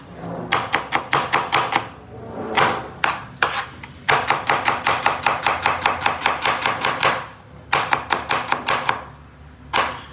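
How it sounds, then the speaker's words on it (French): Onions being chopped with a knife on a board for fried rice, a close, loud run of rapid rhythmic blade strikes in quick bursts separated by brief pauses, with no talking. "je coupe mes oignons pour le fried rice"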